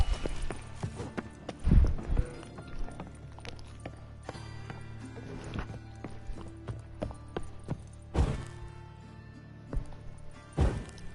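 A horse gallops in the video game The Witcher 3: Wild Hunt, hooves clip-clopping in an uneven rhythm, with a few heavier thuds and rustling bursts, moderately close and without speech.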